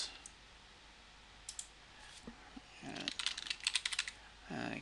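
Quiet computer keyboard typing comes in short bursts of close, crisp key clicks, starting sparse and growing into a quicker run of keystrokes near the end, alone without talk.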